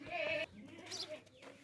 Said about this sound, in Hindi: ये बकरा देखें भाई, बहुत ही ज़बरदस्त सेहतमंद मोटा ताज़ा बकरा है